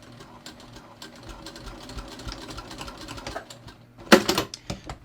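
Close sewing machine stitching a jeans hem, a steady run of needle clatter building to a louder burst of sharp mechanical knocks near the end as the stitching overlaps its start point.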